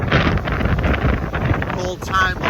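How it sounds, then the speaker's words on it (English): Strong wind buffets the microphone in a loud, continuous rumbling roar outdoors on a busy evening, with a faint voice partly buried beneath it. "It's also getting very windy. That wind's just picked up."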